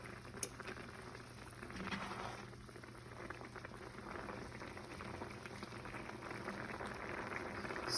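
Water boiling in a pot for vegan stuffed peppers bubbles quietly and continuously, a soft steady crackle and patter with no talk over it.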